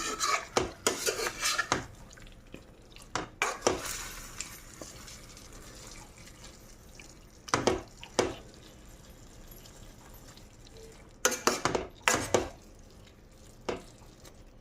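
Chicken being stirred into fried onions in a cooking pan: irregular bursts of a spoon scraping and rasping against the pan, some in quick clusters, with quieter sizzling between them and no talk.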